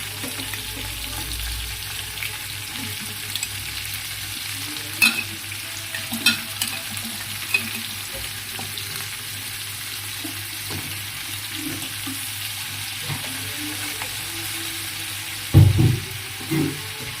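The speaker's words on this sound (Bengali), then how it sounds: "চিংড়ি মাছগুলো আমি আলু ও পেঁয়াজের সঙ্গে একটু ভেজে নিব।" Prawns fry with potato and onion in a pan with a little salt, a steady sizzle running throughout, broken by occasional clacks and scrapes of stirring.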